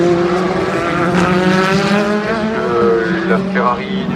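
Race cars at the 2016 24 Hours of Le Mans roar past close and loud, engine tones rising and falling as they shift, while a commentator talks over the noise.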